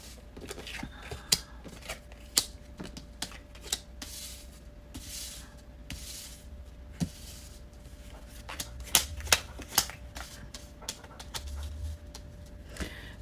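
Tarot cards are slid, tapped and laid out on a table close by, giving soft scattered shuffles and sharp clicks over quiet room background.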